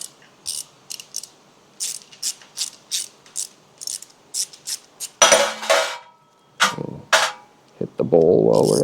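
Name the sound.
3/8 inch socket removing carburetor needle seat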